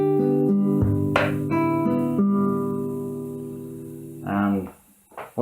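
Main riff of a song on guitar: a handful of plucked notes ringing over one another in a steady pattern, followed near the end by someone talking.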